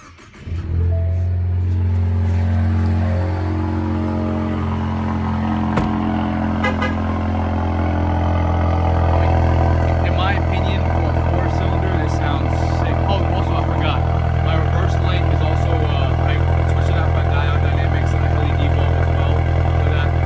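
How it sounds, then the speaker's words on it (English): A 2015 Ford Mustang EcoBoost with a straight-piped exhaust and cat-back muffler delete starts up and idles with a loud, deep, raspy rumble close by, steady throughout with slight rises in revs. "I do have a straight piped exhaust, muffled delete, basically"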